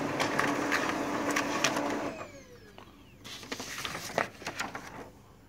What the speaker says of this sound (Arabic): لاحظوا الطابعة تطبع على الوجهين الديفولت،